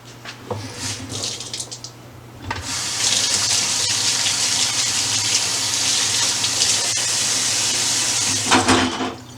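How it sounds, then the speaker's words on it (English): Kitchen sink tap running while hands are washed, a steady close gush of water that starts after a few seconds of small handling noises and continues almost to the end. "let me wash my hands real quick."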